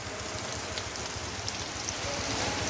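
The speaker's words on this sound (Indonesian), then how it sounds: "Hujan lebat sekali" Heavy rain pours down outdoors where fruit and goods are left out, a dense steady roar of drops that stays loud and unbroken throughout, with no voices.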